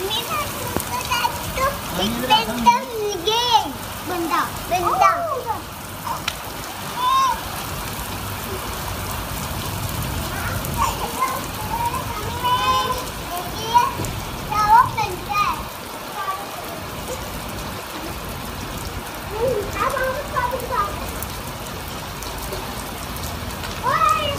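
Steady heavy rain pours down outdoors while children shout and play nearby, with an adult voice talking over the constant patter throughout.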